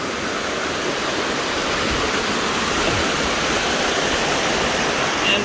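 Running water rushes through a large cave in Wyoming in a steady, dense roar with no pauses, loud and enveloping throughout.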